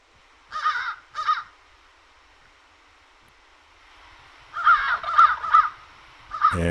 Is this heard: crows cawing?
yes